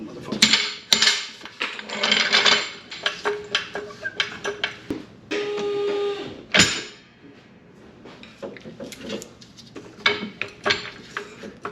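A floor jack raises the suspension knuckle of a Porsche 997 Turbo during a coilover install in a home garage, giving a run of close metallic clanks, clicks and knocks in uneven bursts with brief pauses between them.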